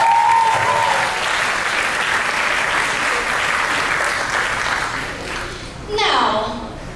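Audience applause at a college Diwali dinner, a steady broadband wash of clapping from a room of diners lasting several seconds and fading out, with a speaking voice briefly over the start and end.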